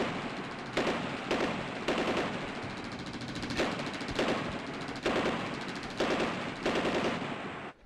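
Rapid bursts of gunfire in a comedy sketch, several loud volleys repeating at roughly one-second intervals, with no talking.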